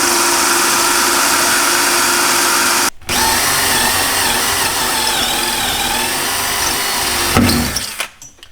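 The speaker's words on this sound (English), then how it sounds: "I'm using a 1/2 inch drill bit." A power drill fitted with a 1/2 inch bit bores a hole during an under-sink reverse osmosis filter install, running loud and continuous with a brief stop near three seconds before winding down at the end.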